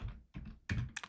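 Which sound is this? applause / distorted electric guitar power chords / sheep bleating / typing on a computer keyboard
typing on a computer keyboard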